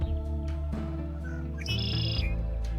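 Red-winged blackbird song in a cattail marsh, several bright trilling, whistled phrases rising over a steady hum of background noise.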